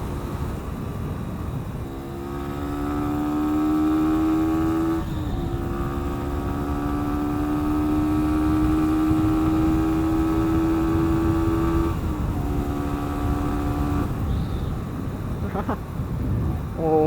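A Sinnis SM-R 125cc motorcycle cruises at about 50 mph on a country road, its small engine droning steadily with slight pitch shifts between gears, and wind noise beneath.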